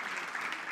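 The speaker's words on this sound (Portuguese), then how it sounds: "un fuerte aplauso" Audience applause at an international customs seminar, a brief steady burst of many hands clapping together, fairly loud and dense with no pauses.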